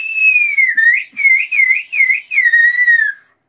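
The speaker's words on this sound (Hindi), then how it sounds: "एक मिनट में सीटी पहले मारन दियो" A pressure cooker whistle sounds while murgh makhani cooks in a village-style home kitchen: a loud, close, wavering shriek that pulses in several quick bursts for about three seconds, then cuts off.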